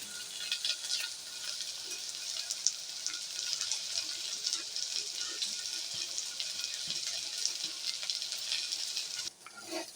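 Soft, continuous sizzling and crackling of steamed lentil balls frying in hot oil in a tempering pan, steady and fairly quiet, with faint stirring and no voices.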